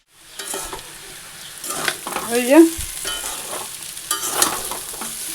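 Spiced food frying and being stirred in a pan in a home kitchen, with steady sizzling, scraping of a spatula and a louder burst of movement midway.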